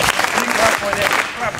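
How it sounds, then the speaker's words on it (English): Applause from a school audience at a student debate event, steady dense clapping throughout with some voices mixed in. "can we please join our hands for the presenters"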